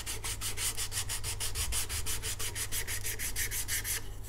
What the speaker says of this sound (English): just with the thumb you can remove all the scratches from the rasp